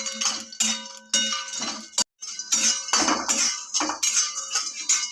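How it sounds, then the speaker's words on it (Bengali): Bori, sun-dried lentil dumplings, dry-roasting in an empty pan, rattling and clinking against the metal in loud, close bursts with brief pauses between stirs. "খালি খোলায় লাল করে বড়িটাকে ভেজে নেব"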